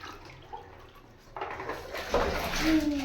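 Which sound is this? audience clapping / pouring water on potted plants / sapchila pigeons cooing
pouring water on potted plants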